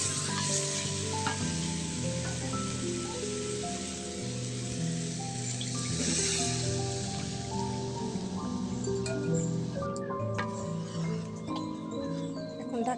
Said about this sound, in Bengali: আমার চিকেন কষানো হয়ে গেছে, এখন এর মধ্যে আমি পরিমাণ মতন পানি দিয়ে দিই